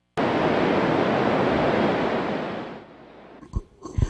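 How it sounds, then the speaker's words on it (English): Water rushes over the Hinckley Dam in a loud, steady roar of broadband noise that fades after a few seconds, followed by a few brief knocks and clatters. "Water was rushing over the Hinckley Dam on Friday."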